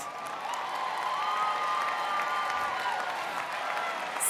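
Graduating seniors and the crowd at a high school graduation give parents and guardians a sustained round of applause, steady and moderately distant, filling the hall evenly without speech.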